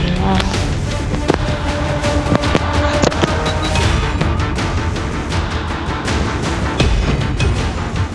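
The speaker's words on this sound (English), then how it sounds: "Predator missile inbound." Explosive blasts and gunfire from a Call of Duty Mobile match, a Predator missile strike landing amid dense, continuous battle noise with sharp loud bursts throughout and no talk.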